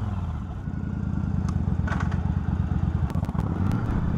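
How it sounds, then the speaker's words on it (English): A Yamaha V-Star 1100 V-twin idles near 980 RPM close up, putting out a steady, even low-pitched throb with a few light mechanical clicks and ticks over it. "The idle mixture screw has now been adjusted to raise it up to match that of the other cylinder. Notice the RPMs is also sitting around 980 now."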